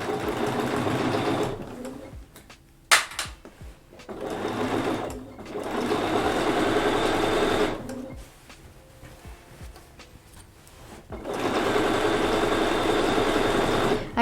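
Sewing machine stitching a quilt in bursts, running steadily for a few seconds, pausing, then starting again, loud and close with brief handling clicks between runs.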